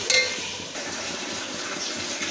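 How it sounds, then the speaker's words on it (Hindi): Water poured from a mug into a cooking pot while making matar pulao, a steady continuous splashing gush that runs throughout, close and fairly loud with no talking. "अब हम जो है इसमें वो पानी जो है वो ऐड कर देंगे।"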